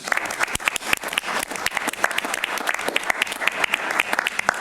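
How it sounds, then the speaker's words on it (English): Applause from a city council meeting audience honoring Lake City, a steady wash of many hands clapping with sharper individual claps standing out throughout. "I solicit your applause for Lake City"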